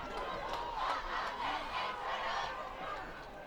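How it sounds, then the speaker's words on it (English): Crowd noise at a close high school football game between Central and West Salem, a steady roar of voices filling the whole stretch at moderate distance with no clear announcer speech on top. "Crowd's been getting into it"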